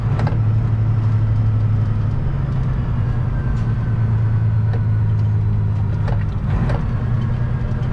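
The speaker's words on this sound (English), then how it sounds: "See how I'm downshifting? I'm kind of rev matching it." A 13-speed semi truck's engine drones steadily from inside the cab as the driver downshifts and blips the throttle to match revs, a continuous low rumble with brief clicks and shifts in pitch.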